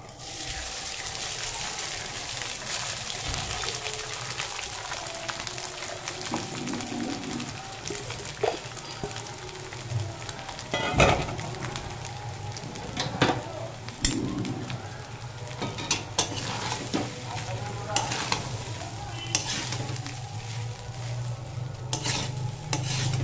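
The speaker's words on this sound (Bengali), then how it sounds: "এবার এলাচ, দারচিনি, লবঙ্গ ঘির মধ্যে দিয়ে দিলাম। দিয়ে এবার রাইসগুলো দিয়ে দেবো।" Rice fries in ghee with cardamom, cinnamon and cloves, giving a steady low sizzle broken by frequent scraping and clanking strokes of a spoon against the pan, with no talking.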